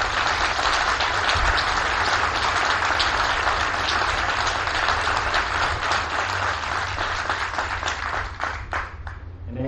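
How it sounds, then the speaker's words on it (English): Audience applause for Marines at a 2019 Marine Corps sergeant major relief and appointment ceremony: a loud, sustained wash of many hands clapping that tapers off at the end. "So please give them a round of applause."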